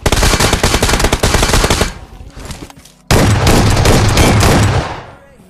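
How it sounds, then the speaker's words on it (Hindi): Rapid bursts of gunfire ring out in the mobile battle royale game BGMI, loud and close, with a dense volley that fades, a short gap, then another sustained burst. "इजीली शॉटगन से इस भाई को मार देते"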